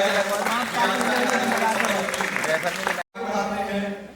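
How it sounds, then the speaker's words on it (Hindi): An audience claps together at a university poetry event, a steady wash of clapping running under continuous talk before a brief drop and a return. "तालियां बजाओ"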